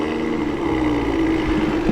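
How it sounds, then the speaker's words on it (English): A steady low engine drone from the exhaust of an idling 2024 BMW X3 M40i after remote start, close and constant, with a faint rumble and no voices. "Now let's take a listen to that exhaust, because this does have remote start."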